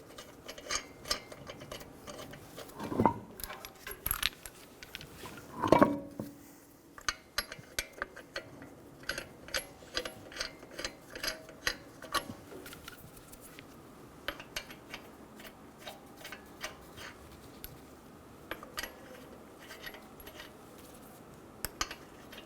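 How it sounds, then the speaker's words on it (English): Lug nuts being started by hand on a Toyota Camry wheel during a front sway bar link job, a string of small metallic clicks and light clinks at an uneven pace, close but quiet, with no talking. "Install the wheel. And get the lug nuts started."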